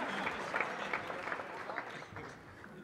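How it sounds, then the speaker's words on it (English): Theater audience at a live comedy show applauding steadily with a patter of claps, moderately distant and fairly soft, with some crowd noise mixed in. "Give him a round of applause."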